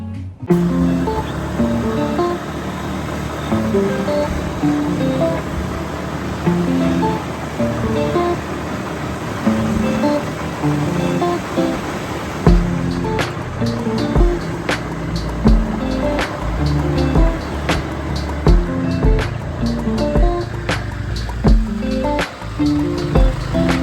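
Continuous rushing wind and road noise from a scooter ride through a city in Vietnam, steady and loud throughout, with sharp knocks and bumps growing more frequent in the second half and no speech.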